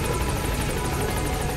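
Helicopter rotor chop from the video game Metal Gear Solid V, a steady rapid beating that fills the whole short stretch at moderate level, with no voices.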